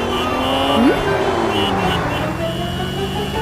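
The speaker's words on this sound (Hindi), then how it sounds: "इतनी देर से बाद गाड़ी चला के कितना मजा आ रहा है" A car being driven, its engine giving a steady, fairly loud hum that holds evenly throughout with no voices over it.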